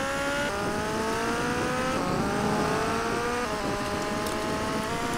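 A motorbike in GTA Vice City accelerates at full speed, a continuous whining engine tone climbing through repeated gear shifts, steady and unbroken with no talk.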